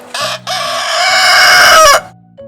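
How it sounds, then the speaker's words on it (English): A rooster crows loudly and close, a single long drawn-out cock-a-doodle-doo rising and holding before cutting off, with brief clucks at either side. "The rooster is inside the cage."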